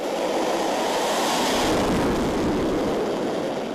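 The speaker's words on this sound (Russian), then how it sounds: "летчик в кабине самолета Су-35С разгоняется по взлетной полосе и отправляется к условной цели" A Su-35S fighter jet accelerates down a runway for takeoff, its steady, loud broadband engine roar holding throughout and swelling slightly in the middle, with no voices.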